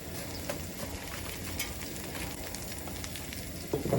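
Three yellow onions sizzling over bacon in a hot pan, a continuous crackling fry with scattered pops and a brief scrape or stir near the end, close and steady, no talking.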